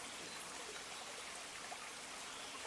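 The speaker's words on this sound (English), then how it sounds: "It's a village made of water streams." Water from small river tributaries rushes through and around the houses of a dilapidated Galician village, a dense, steady broadband hiss of flowing streams with no voices.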